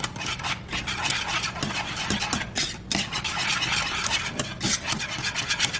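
A spoon stirs cheese into Cajun shrimp grits in a pot, making a continuous rough scraping and rubbing with an uneven rhythm. The sound is close and fairly loud, with no voices.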